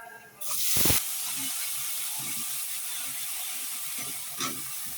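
Bitter gourd tipped into a pan of browned onions, a sharp burst of hiss at the drop settling into a steady, fairly quiet frying sizzle.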